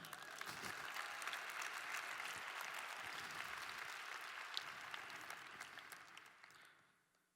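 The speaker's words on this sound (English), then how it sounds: "Let's clap it up for her." Audience applause at a motivational talk, a steady, fairly faint roar of many hands clapping that holds for about six seconds before tapering off and dying away at the end.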